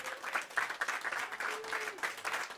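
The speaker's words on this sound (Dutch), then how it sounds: "Mag ik alsjeblieft een keihard applaus voor Roland?" Audience applause at a live hip-hop show, a dense patter of clapping hands that swells and dips across the short stretch, with a few voices mixed in.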